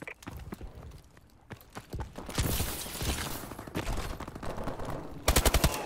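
Bursts of video game gunfire crackle through a busy battle scene, with scattered shots early on, a sustained exchange in the middle and a rapid, loud volley at the end.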